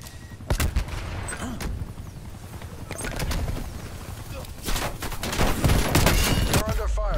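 Rapid bursts of video game gunfire crackle around a player under fire during a VIP escort exfil, with irregular shots and volleys spread across the clip, mixed with a voice speaking over the shooting.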